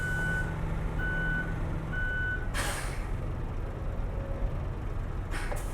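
Reversing beeps from a truck in Euro Truck Simulator 2: a high tone repeats about once a second over a low engine drone, with two short air-brake hisses.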